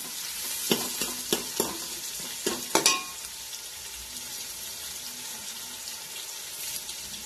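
Onion and curry leaves frying in a pan, with a steady sizzle and a cluster of sharp spoon-on-pan scrapes and taps early on, then an even hiss continuing alone.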